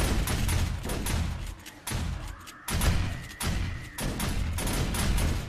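Gunfire in the zombie survival game 7 Days to Die comes as repeated loud bursts of shots and heavy thuds, arriving in several clusters with short gaps between them. No one speaks.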